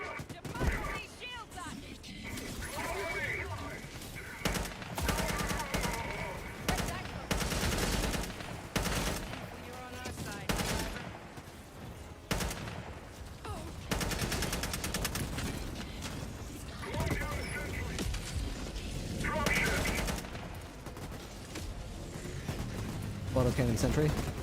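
An autocannon sentry in a video game fires dense, rapid bursts again and again, loud and close, with brief gaps between volleys throughout.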